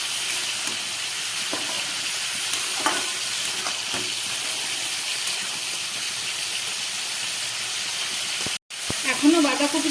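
Cabbage cooks in a pan with a steady sizzling hiss and a few scraping stirs, then a sudden brief cut and a louder burst of stirring at the end.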